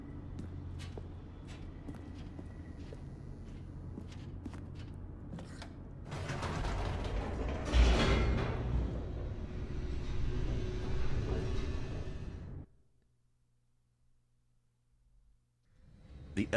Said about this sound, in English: The elevator raced downward,